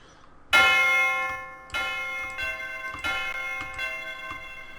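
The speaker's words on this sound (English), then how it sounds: "There's this other bell, sounds like this." A bright ringing bell sample in a trap beat strikes four times at a steady pace, each tone sustaining and slowly decaying with a slight tremolo wobble, clear and close.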